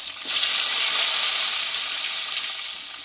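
A paste of ginger, green chili and cumin goes into hot oil in a pan with chopped tomatoes, bursting into a loud, steady sizzle that starts abruptly and hisses evenly, slowly easing off.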